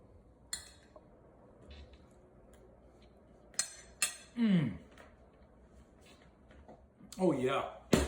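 Dishes and cutlery while plating a ground beef and rice meal prep dish: scattered clinks, taps and scrapes of utensils on plates, close and intermittent, with a voice speaking between them.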